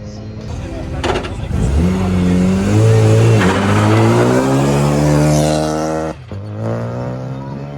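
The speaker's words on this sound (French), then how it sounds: "Mathieu Arbois qui vient de partir sur sa Clio RS, numéro 19" A Renault Clio RS race car, number 19, launches from the start of a slalom at Gisors, its engine revving hard and climbing through the gears, loud and close, while a commentator talks over it.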